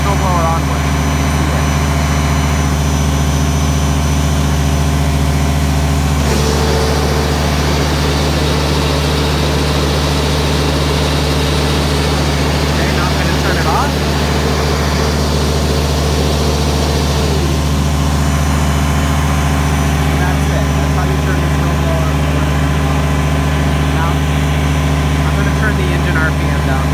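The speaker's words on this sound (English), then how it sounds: "So I'm going to turn the snowblower on with it." A Kubota BX23S tractor runs with its snowblower engaged, a steady loud engine drone with a constant low hum and whirring that continues without pause.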